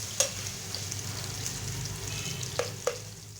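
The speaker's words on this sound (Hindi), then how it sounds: "अब हम इसको हल्का ब्राउन कर लेंगे थूम के पेस्ट को" Garlic paste browning in hot oil over normal heat for aloo gobi, a continuous close sizzle broken by a few sharp spoon clicks against the pan.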